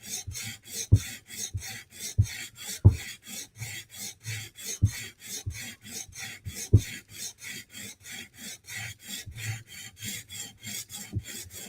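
A knife scraped across a sharpening stone in steady, rhythmic rasping strokes, close and clear, with a few soft knocks between passes and no talking.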